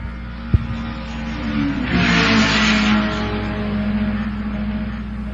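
Race car engines rev and rumble ahead of a stage race, a steady low drone that swells to a louder roar midway, with a sharp knock near the start.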